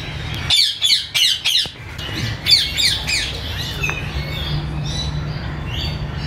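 A parrot at a zoo in Lahore gives a burst of sharp, repeated squawks close by, then quieter calls trail off over a steady background hum.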